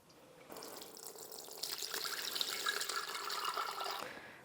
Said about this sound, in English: take a strainer and some cheesecloth and strain out our vinegar